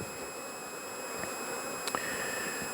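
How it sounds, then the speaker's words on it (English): Honey bees at a queenless hive, agitated and buzzing steadily at close range, a sustained hum with a few brief faint clicks and ticks over it. "I can tell these bees are starting to get a little agitated now because they have no queen"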